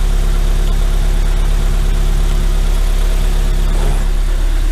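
Car idling with a new Milltek exhaust, a loud, steady, deep rumbling drone held close and unbroken throughout, with no talking.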